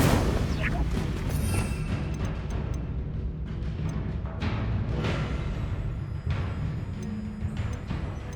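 Fiery spell blasts in Hogwarts Legacy combat, with repeated booming bursts of Incendio fire over a dense, noisy battle bed, while a voice calls out spell names throughout.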